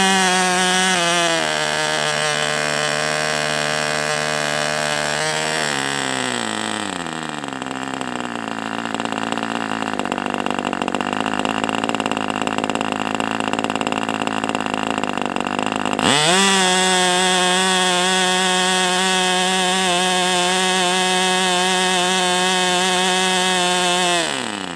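A small Enya 40 TV model engine screams at high rpm during a heat-cycle run, drops to a lower buzzing idle for several seconds, then snaps back up to a sustained high whine, loud and close.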